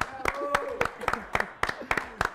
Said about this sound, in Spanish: lo vamos a recibir con un fuertísimo aplauso